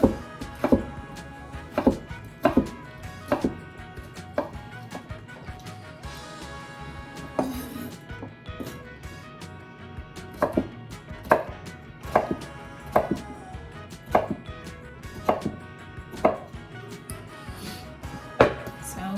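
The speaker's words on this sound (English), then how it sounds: "And then I'm gonna slice from right to left." Zucchini being sliced with a knife on a cutting board, a run of crisp, evenly spaced knife taps with a short pause midway, close and clear, with faint background murmur.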